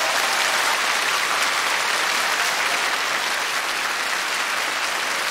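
A large audience at a televised K-pop legend concert special claps steadily, dense sustained applause filling the whole stretch without talk.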